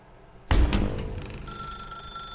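A telephone rings in the video game The Stanley Parable, sounding loud and close as a sharp bell burst that settles into a steady electronic ring sustained to the end.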